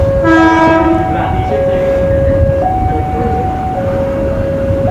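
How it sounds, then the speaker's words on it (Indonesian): A Jogja–Solo KRL electric commuter train pulls in with a loud rumble, sounding a two-tone horn, then a long whining electric tone that shifts pitch over the rolling noise. "ini dia kereta terbaru, kereta listrik Jogja Solo"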